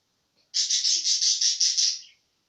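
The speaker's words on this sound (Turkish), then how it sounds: "Kuş sesi var arkadaşlar" A pet bird nearby lets out a rapid run of about eight bright, even chirps in quick succession, then falls silent.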